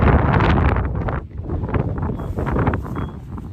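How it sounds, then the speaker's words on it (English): Wind buffets a microphone outdoors in a garden, a loud, steady low rumble with gusty swells that carries on for a few seconds with no voices. "Wind again."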